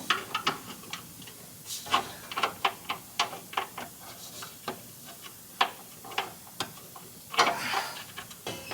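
A ratchet wrench works on a shock absorber bolt on a 455 Pontiac LeMans, quick uneven series of sharp metallic clicks, close and fairly faint, with brief pauses between bursts.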